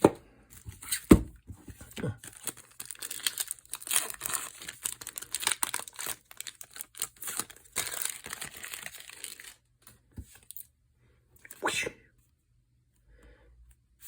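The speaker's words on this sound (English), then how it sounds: "Let's open the special pack this time." A Magic: The Gathering Doctor Who Universes Beyond special booster pack has its foil wrapper torn open up close, giving about ten seconds of dense crinkling and crackling, then a pause and one short final rustle, with no voices.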